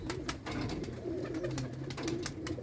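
Pigeons in a loft give repeated low cooing calls, near and steady, mixed with sharp wing flaps and clicks.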